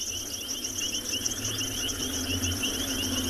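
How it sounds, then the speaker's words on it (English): Frogs call at night from a moving vehicle on a sunset safari drive at Tswalu, a dense, steady high trilling chorus over a low engine rumble. "And you can hear where we're driving now, the noise of all these frogs"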